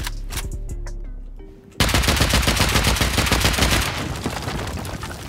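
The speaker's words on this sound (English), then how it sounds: "that's an auto turret actually" Rapid automatic gunfire from an auto turret in the video game Rust, a dense burst of loud shots that begins partway through and continues steadily to the end.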